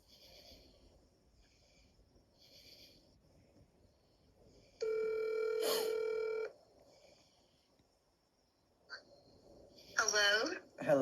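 A phone call being dialed: a sustained keypad-style tone of about two seconds stands out clearly, followed by a short chirpy ring signal, with faint talk and background murmur around it.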